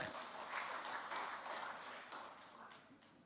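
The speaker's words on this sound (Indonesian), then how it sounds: "Kita berikan tepuk tangan yang meriah" Applause at a political party announcement event, a faint, steady patter of many hands clapping, fairly distant and without speech.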